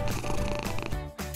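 A kitten purrs up close in a loud, continuous rumbling purr with a slight break near the end.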